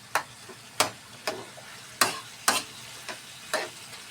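Creamy mushroom chicken gets stirred in a pan with a spoon, sounding as a string of sharp, evenly spaced scrapes and clicks about every half second over a faint sizzle. No one speaks.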